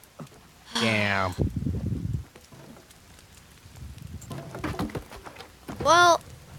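A bird in the survival game The Forest gives a sharp, rising whistled call near the end, after a louder burst of rapid chirping early on, with game ambience and brief voices in between.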